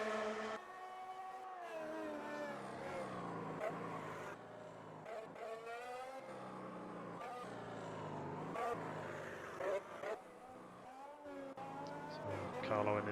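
An Alfa Romeo Formula 1 race car in a racing video game at Silverstone screams through gear changes, its engine pitch climbing and dropping repeatedly as a commentator talks over the engine.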